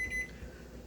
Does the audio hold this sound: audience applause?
no